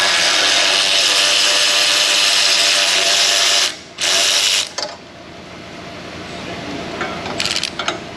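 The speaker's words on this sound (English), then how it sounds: "I'm glad these bolts are coming off easily." A power tool whirs steadily as bolts come off the muffler of a 2007 Mazda CX-7 2.3, loud and close, then stops and briefly restarts before fading into quieter ratcheting clinks and shop noise.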